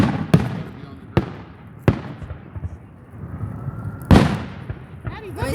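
Fireworks go off outdoors in a series of sharp, loud bangs at irregular intervals, each followed by a short crackling decay, with people talking faintly between the blasts.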